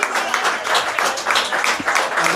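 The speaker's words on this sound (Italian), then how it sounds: "Allora un applauso a Laura, Giovanna, Oksana, Elena," An audience applauds steadily with brisk, even clapping for a couple of seconds, with a faint voice underneath.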